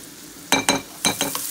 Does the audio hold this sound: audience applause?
no